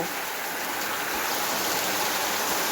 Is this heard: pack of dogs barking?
no